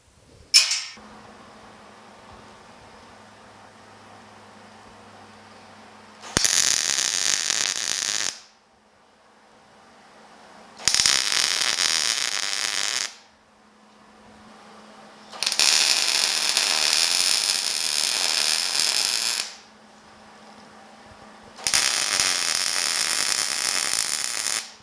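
Ratchet wrench threading and tightening casters onto a 24 by 36 inch, 3/16 inch steel welding table kit; four loud, sustained bursts of rapid clicking, each several seconds long, separated by quiet pauses.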